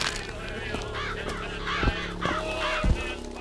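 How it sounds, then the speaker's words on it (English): Crows cawing and honking in the world of the video game Bioshock Infinite, a few harsh calls spaced about half a second apart over a steady game ambience. "Where we have bulletproof birds."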